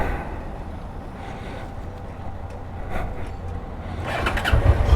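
Honda Transalp motorcycle riding on an island road in Sardinia, a steady low engine drone with wind rush that swells louder toward the end.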